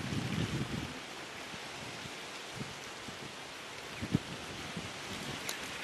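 Wind blows through the bush at dawn in an African reserve, a soft steady rushing hiss with a gust at the start and a few faint knocks and rustles.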